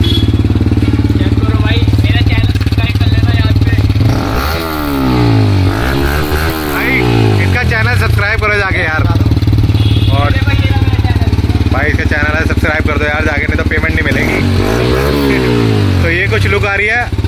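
Yamaha R15 V3 motorcycle fitted with an R9 silencer, its exhaust rumbling close and loud with repeated throttle revs rising and falling over a steady idle, someone talking throughout.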